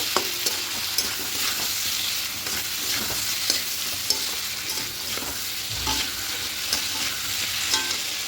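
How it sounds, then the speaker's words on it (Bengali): Spice paste sautés in a pan for a Malabar spinach, prawn and red lentil dish, giving a continuous close sizzle with frequent scraping and clinking stirs and no talking. "এভাবে একটু মশলাটাকে কষিয়ে নেব"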